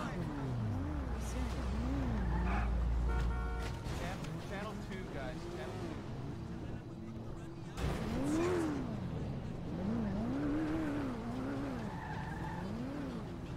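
A car in a GTA roleplay game drives up with revving engine and wavering tire squeals and skids through the whole stretch, while people talk over it.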